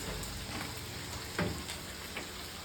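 Chopped onion frying in a pan for a mixed-vegetable chopsuey, a continuous close sizzle with a brief stirring scrape in the middle and softer crackles around it.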